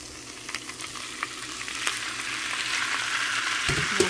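Menudo sizzles and fries in a pan while being stirred, a steady loud crackle with scraping stir strokes near and alone.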